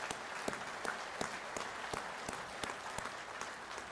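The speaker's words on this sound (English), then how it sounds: "Let's give them a round of applause." An audience at a convention session applauds steadily, a dense wash of many hands clapping with a few sharper, louder claps standing out at a regular beat throughout.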